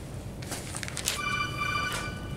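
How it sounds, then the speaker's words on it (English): A mobile phone rings in a lecture hall, its bright melodic tone rising loud and clear partway through after a few soft bumps and rustles, then ringing on steadily to the end. "Whoever's phone that is, if you could please silence it."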